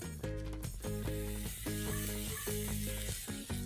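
Ginger, garlic and chilli paste sizzling in about a tablespoon and a half of hot oil in a pan, a steady close frying hiss with soft stirring scrapes, no voices.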